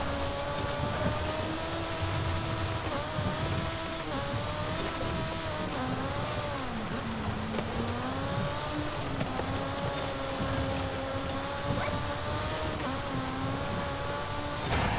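A tiny 1962 Peel P50 microcar in Forza Horizon 5 whines along offroad, its small engine droning steadily with wavering pitch as it bumps over terrain, heard alone without talk.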